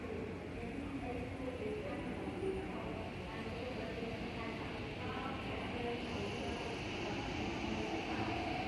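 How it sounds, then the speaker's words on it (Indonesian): A commuter train arrives at a Hong Kong railway station with a continuous rumbling, rolling roar that holds steady throughout, moderately loud, with faint platform voices mixed underneath. "Ini kereta yang kita tunggu sudah sampai"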